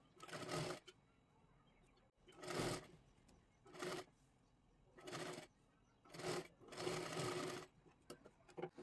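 A sewing machine stitches a blouse sleeve seam in several short bursts of rapid whirring, each lasting about a second, separated by brief quiet pauses, close by and clear.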